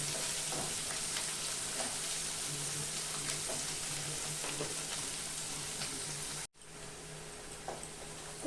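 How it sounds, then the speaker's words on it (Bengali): Onion, ginger and garlic fry in a pan with a steady, moderate sizzle and faint crackles and stirring, briefly cutting out near the end, with no voices. "আমি এখন পেঁয়াজটা আর এগুলো সব একটু ভেজে নেব"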